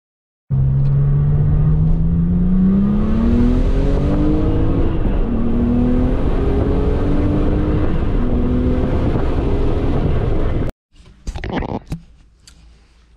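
A Porsche 996 Turbo engine revs up and accelerates through several gears on a road test after a clutch replacement, loud and close, rising pitch with each shift before cutting off abruptly, followed by brief rumbling.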